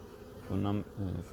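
Honey bees in an opened spring hive in Melbourne give two close, faint bursts of buzzing, one longer and a second shorter one, over a quiet background.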